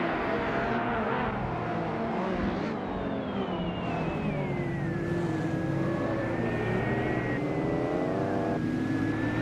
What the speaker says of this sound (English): Chubby boy RJ is starting strong on pole, driving a classic 1993 Toyota Supra from the 1990s supercar class